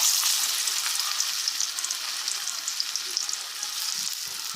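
Valappu vadai patties frying in hot oil, a dense bright crackling sizzle that stays steady throughout, close and uninterrupted, no voices.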